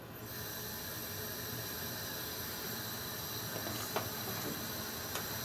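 Almond orgeat syrup brought to a boil in a pot, a steady close hiss of bubbling and steam with no pauses, plus a couple of faint clinks toward the end.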